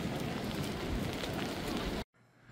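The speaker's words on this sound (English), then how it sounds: "after the walk back through the rain" Steady rain falls on a New York City street, a dense, loud hiss that holds evenly for about two seconds before cutting off abruptly to a much quieter background.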